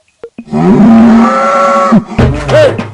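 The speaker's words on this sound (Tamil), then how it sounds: "அந்த எருமாடு தண்ணி எங்கடா கத்துதுடா" A water buffalo bellowing loudly and close: one long, deep, drawn-out moo, followed by a shorter rising call.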